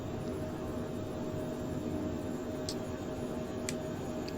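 Phenom 100 business jet climbing out after takeoff in Microsoft Flight Simulator, a steady broadband engine roar with a faint whine, continuous and even with no talk.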